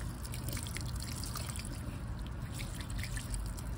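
Water trickles and splashes as it is poured onto the base of tree trunks, a faint continuous wet dribbling with light outdoor background noise.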